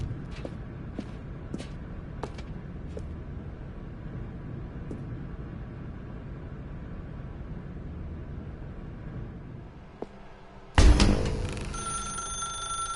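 Telephone ringing in a video game, a burst of bright repeated ringing that starts abruptly near the end after a long stretch of quiet ambient room noise with scattered faint clicks.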